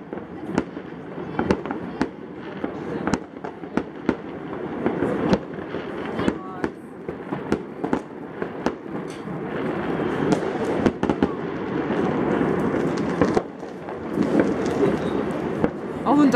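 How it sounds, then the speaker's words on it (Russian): New Year fireworks bursting over Gelendzhik, sharp repeated bangs and crackles at irregular intervals over a steady hiss of crowd noise and wind, with voices talking throughout. "Там смотри, какой салют красивый"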